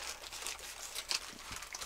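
Quiet plastic crinkling and snipping close by, with a few small sharp cuts and rustles of a package being handled.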